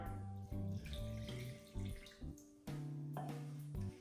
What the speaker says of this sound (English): Then add the water.